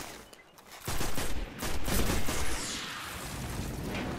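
Gunfire in the Destiny video game bursts in after a brief lull: dense, loud rapid shots that blur into a continuous roar and hold at high intensity, with no talking over it.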